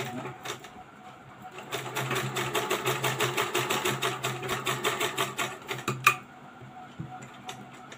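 Blouse fabric is stitched on a sewing machine in short bursts, a few taps giving way to a steady, rhythmic close-up needle clatter that stops with a sharp clack, followed by faint handling noises.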